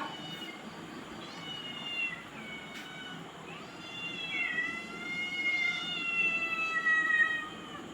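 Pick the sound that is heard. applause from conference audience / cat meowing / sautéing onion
cat meowing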